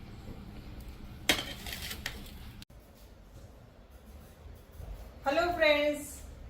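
A spatula scrapes dried lemon-and-sugar crust off a metal vessel, making crunchy clinks and scratches, with a sharp scrape at the start and a louder rasping burst near the end, and someone talking in between.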